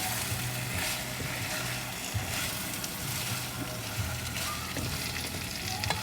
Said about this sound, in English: So it's actually bubbling and cooking.